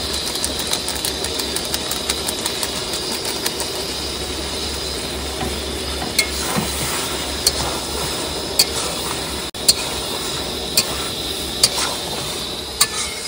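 Chicken kosha stir-fried in a pan: a steady sizzle runs throughout, broken by regular sharp clicks and scrapes of a spatula against the pan.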